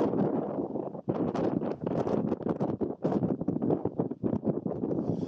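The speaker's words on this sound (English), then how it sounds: "it's just too windy" Strong wind roars and buffets the microphone continuously on a mountain hiking trail at The Alligator's Back, loud gusts rising and falling in rapid bursts with no pauses.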